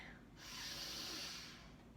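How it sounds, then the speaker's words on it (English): A single deep, audible breath drawn in through the nose during a yoga practice, slow and close, swelling and then easing off, with no talking. "Breathing in"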